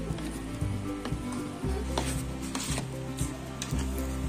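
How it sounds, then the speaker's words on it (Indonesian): Pearl sago mixture for hun kwee cake stirred in a hot pan, making a close, continuous sizzle and bubbling broken by rhythmic scrapes and knocks of the utensil, with no voices. "Aduk sampai tercampur rata."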